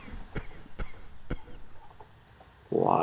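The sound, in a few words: coughing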